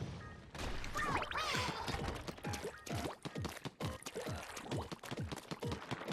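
Splatoon 2 character swimming quickly through ink in Octo Canyon, a rapid string of wet squishy splashes and gurgles in uneven bursts, with brief bright game effects early on, no talk.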